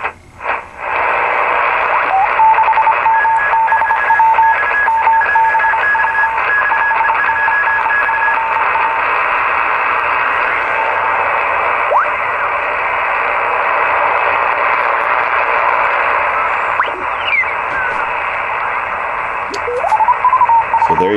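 A Heathkit SB-301 tube receiver tuned to CW carries steady Morse code beeps that ride over a constant band of hiss and static for the whole stretch, and at the very end a tuning sweep glides up in pitch.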